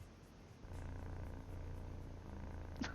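A cartoon cat in the Cat President video game purrs in a low, steady, continuous rumble that swells in after a brief quiet start and holds close and even for several seconds, with no talking.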